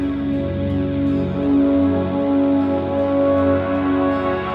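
An instrumental track with sustained layered tones and a steady low pulse washing along at an even, full level with no voices.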